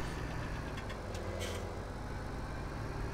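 A steady, low tractor engine drone in a farming video game runs continuously at moderate level, a heavy motor idling and chugging evenly with no voices.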